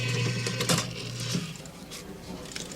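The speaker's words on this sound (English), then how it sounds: "Anyway, the machine reads the card." A 1985 restaurant credit card machine whirs and clatters mechanically as it reads a card, with steady buzzing hum and rapid ticking, close and moderately loud over room noise.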